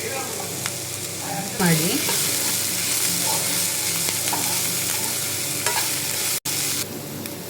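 Spices with turmeric fry in a pan, a continuous sizzling hiss with stirring scrapes and occasional clatter, and a brief spoken word near the end.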